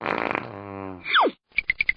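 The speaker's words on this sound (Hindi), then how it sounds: "अब थोड़ी गैस छोड़ने का समय है।" A cartoonish fart, a buzzing blast that bends sharply downward in pitch, comes after a short run of rhythmic tones and is followed by a row of evenly spaced beeps.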